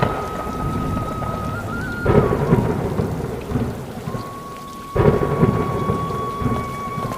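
Heavy rain pours steadily at night with thunder rumbling through it, two deep rolls swelling loud over the constant downpour, with no one speaking.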